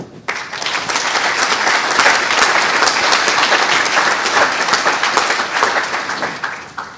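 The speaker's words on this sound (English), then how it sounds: "So I'd like to ask you to join me in giving him a round of applause." An audience at an Indigenous cleaner energy forum breaks into sustained applause. Dense, even clapping fills the room for several seconds at a steady loudness, then fades at the end.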